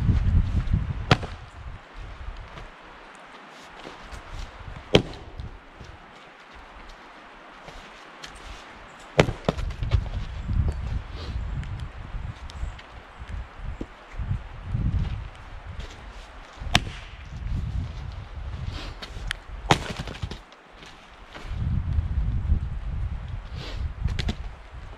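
Seasoned, year-old firewood round split outdoors: a few sharp, loud cracks of an axe or maul striking wood ring out at intervals amid low rustling and wind, the blows spaced several seconds apart.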